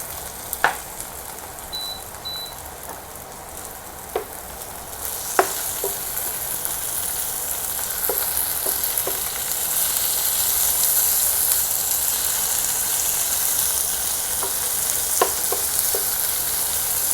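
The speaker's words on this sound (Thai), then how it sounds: "อันนี้เป็น ผัดปลากระพงผัดเต้าเจี้ยว ปลากระพงผัดเต้าเจี้ยวนะคะ" Sea bass stir-fried with soybean paste sizzles steadily in a pan, a continuous frying hiss with scattered sharp spatters and clicks throughout, heard alone without talk.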